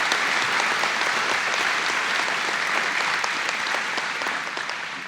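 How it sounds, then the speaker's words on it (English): A crowd applauds at a NASA honor awards ceremony at Marshall, with steady, dense clapping that fills the room at an even level and tapers slightly toward the end. "Let's give a round of applause for the NASA Silver Group Achievement"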